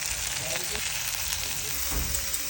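Tomatoes, garlic cloves, chilies and onion roast in a pan with a steady close sizzle and crackle that runs evenly throughout, with a faint scrape partway through.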